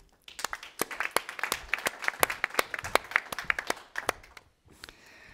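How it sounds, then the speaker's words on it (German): An audience at the Schweizer Markenkongress 2024 applauds with dense, lively clapping that swells and then tapers off, with a brief lull near the end. "Ein Applaus für Christian Moser."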